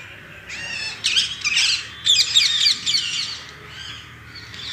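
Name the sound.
koel and crow calling in a morning garden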